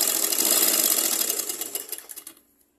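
A sewing machine stitches piping onto a blouse, a fast steady mechanical whirr of needle strokes that slows into separate taps and stops, close and alone.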